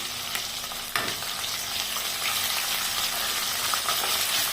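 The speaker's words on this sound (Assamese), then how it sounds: "অকণমান ৰঙচুৱাকৈ মই ভাজিম।" Onions, whole cumin and dried red chillies sizzle and crackle steadily in a hot pan, close and loud, with a light clink near the start and no voices.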